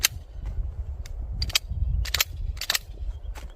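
Sharp, hard clacks of a pistol slide being racked against a knife edge, a series of loud close metallic snaps spaced irregularly over a low background rumble, with no talking.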